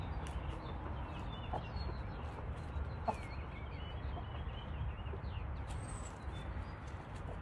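Chickens in a garden chicken run give soft, scattered clucks and small calls over a low steady outdoor background, fairly distant and quiet, with no one speaking.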